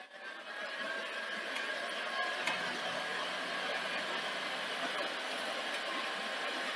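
An NEC PVC 740E Betamax recorder loads a tape with a steady mechanical whir and hum, plus a couple of faint clicks, fairly quiet and close.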